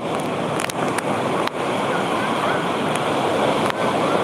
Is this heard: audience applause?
no